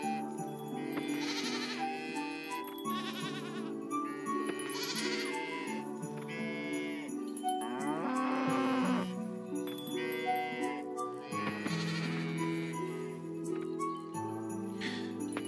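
Goats bleating in the farming game Coral Island, several overlapping calls repeating through the scene, close and clear, with a faint tinkling jingle and no speech.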